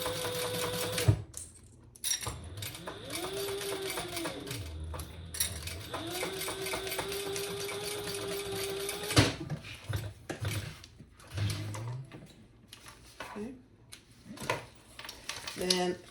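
A sewing machine top stitching a crossbody bag with a D-ring, running in steady whirring bursts with pauses between, under frequent talk and handling noises.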